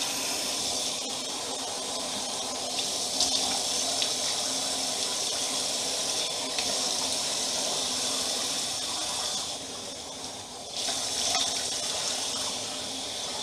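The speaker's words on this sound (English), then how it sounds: "So now what I'm gonna do is I'm gonna rinse that out" Tap water runs steadily into a sink during a makeup-removal rinse, a continuous close splashing hiss that briefly dips and then resumes, with no talk.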